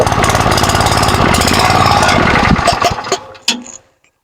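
Kerosene-run irrigation pump engine running steadily and loud at close range in a bitter gourd field, then cutting out and sputtering to a stop with a few final knocks.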